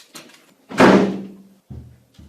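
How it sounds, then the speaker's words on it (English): A heavy prison cell door slams shut once, loud and close, with a booming impact that rings on, followed by a couple of duller thuds and a faint rattle. "Once again, Abike found herself trapped behind a locked door"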